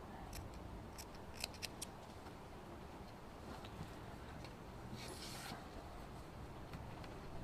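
Scissors cut through bias binding fabric, giving a handful of quick, faint snips early on and then quieter snipping under a low background hum.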